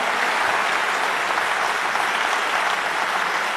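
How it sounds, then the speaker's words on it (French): A crowd at a regional pageant election applauds the first finalist with a continuous, even roar of clapping, dense and sustained throughout without any speech. "Vos applaudissements pour la première finaliste cette année,"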